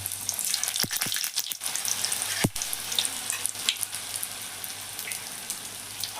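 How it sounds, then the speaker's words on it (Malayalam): Steady crackling sizzle of samosas deep-frying in hot oil, with a few sharp pops and clicks throughout. "അപ്പോൾ കുറച്ച് സമൂസയാണ് ആദ്യം പൊരിക്കണേ."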